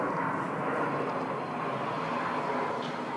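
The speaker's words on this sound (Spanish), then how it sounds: "Pasan los aviones muy cerca y hacen un ruido espantoso." A low-flying airplane roars overhead near Doha, a loud, steady engine drone that fills the whole stretch without a break.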